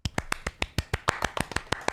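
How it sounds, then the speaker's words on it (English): Two people clap in a small room, sharp close handclaps in a quick, slightly uneven rhythm, with no voices over them. "Because we're both clapping."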